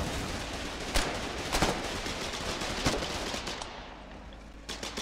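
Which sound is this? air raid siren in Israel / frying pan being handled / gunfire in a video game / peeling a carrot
gunfire in a video game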